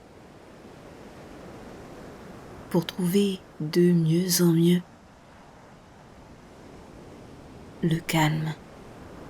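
A soft, constant wash of sea waves runs low in the background while a calm voice speaks quietly in a few short phrases, with pauses where only the surf remains.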